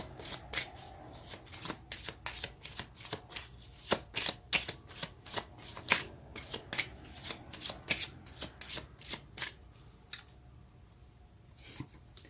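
Tarot cards being shuffled by hand, a rapid run of crisp riffling snaps in a steady rhythm for over ten seconds, close and fairly loud, with no talking.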